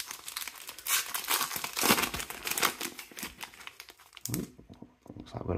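A Match Attax trading card pack is ripped open by hand, a dense close run of crinkling foil and tearing wrapper that lasts several seconds before trailing off into a few quieter rustles.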